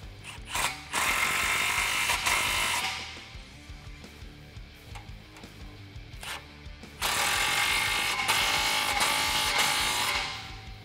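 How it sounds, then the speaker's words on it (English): A ratchet with a 15 mm socket tightens exhaust clamps on a 2018-2020 Mustang GT cat-back exhaust, giving close bursts of rapid mechanical clicking and grinding with quieter handling noise between them. "Grab your 15 millimeter socket, rotate the clamps into position and tighten them down."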